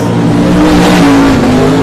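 Limited sprintcar, number 57, racing at Carnarvon in a state title event, its engine roaring loud and close with a steady sustained drone and harmonic whine, a little tire noise mixed in, no talking.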